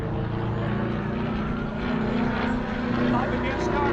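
An aerobatic airplane flies a torque roll at an airshow, its loud propeller engine holding a steady, droning roar throughout, with a voice talking faintly underneath.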